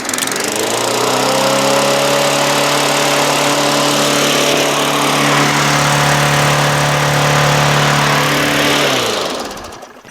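A Yard Machines by MTD push lawn mower with a bent crankshaft revs hard and steady, its loud engine drone holding high for about nine seconds before cutting off abruptly.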